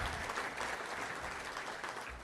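A luncheon crowd at a touchdown club gives a round of applause for its board of directors: dense, steady clapping that is fairly quiet and continuous, with no voices on top.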